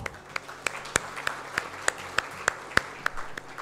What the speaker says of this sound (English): Can we all start with a round of applause?